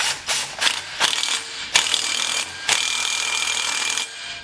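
A part is tightened down onto a tapered engine shaft with a ratchet, giving a run of sharp, close mechanical clicks in uneven bursts, then a steadier grinding rasp.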